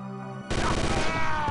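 Video game combat sound of gunfire and explosions: a sudden loud blast bursts in after a quieter tonal stretch, followed by dense, continuous rattling booms.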